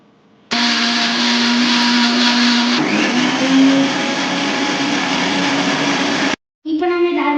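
A blender grinds strawberries, sugar and ice cream for a strawberry milkshake, running loud and steady for about six seconds, its pitch shifting partway through. It cuts off briefly, then starts again. No one speaks.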